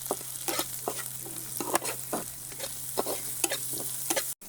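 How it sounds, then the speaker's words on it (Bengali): Onion and green chili fry in a pan with salt and turmeric, a soft steady sizzle broken by repeated scraping stirs of a spatula, quiet and close. "দিয়ে আর একটু ভেজে নেব পেঁয়াজ মরিচটা"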